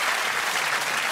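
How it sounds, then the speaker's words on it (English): A brief stretch of loud, continuous applause from a crowd, dense and even throughout. "Give them a round of applause."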